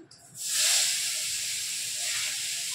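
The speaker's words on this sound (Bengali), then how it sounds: "এবার আমি এখানে একটা গোটা পেঁয়াজ দিয়ে দিচ্ছি।" A whole crushed onion drops into hot oil with already-fried whole spices and erupts into a loud, sustained hiss of sizzling that settles to a steady frying sound.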